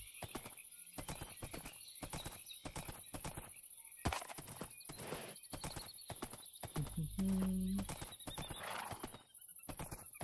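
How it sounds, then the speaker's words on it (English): Horses in the Minecraft Minecolonies mod, a regular train of sharp hoof clip-clops with a neigh partway through, heard alone at a low level. "Those are horses."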